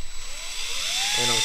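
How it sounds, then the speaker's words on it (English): A toggle bolt wall anchor being screwed into a wall, heard as a brief rising whir over a steady hiss, ending in a low buzzing hum. "So I'm pulling this towards me and I'm screwing."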